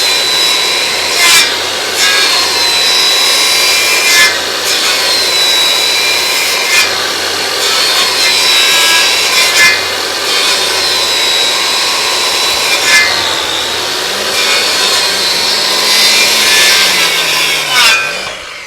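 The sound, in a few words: chiseling out a dovetail joint in wood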